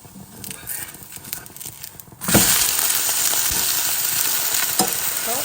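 Pesara attu, a mung bean dosa, sizzles in a pan, starting quiet with scraping and handling noises, then bursting into a loud, steady sizzle as it is flipped, with occasional clinks continuing close by.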